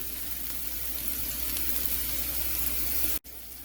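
Garlic sizzles steadily in a hot pan alongside cooking onions for a chili dog topping, a close, continuous hiss that cuts off briefly near the end before resuming.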